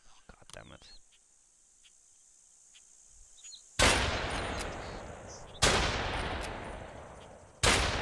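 Gunfire in the video game Fallen Earth: three loud, sharp shots spaced about two seconds apart, each with a long decaying tail, after faint earlier sounds and near silence.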